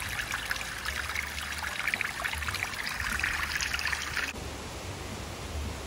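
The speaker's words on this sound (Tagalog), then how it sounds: "Ayun na yung falls." Mardalsfossen waterfall in Eikesdal roars as a steady broadband wash of falling water, continuous and moderately distant, with no voices.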